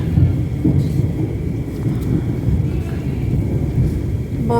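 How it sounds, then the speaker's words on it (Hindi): Thunder rumbles low and continuous through an unseasonal rainstorm, a heavy, rolling roar mixed with rain and wind noise, steady and fairly loud throughout. "हाँ देखिए कितना बादल गरज रहा है"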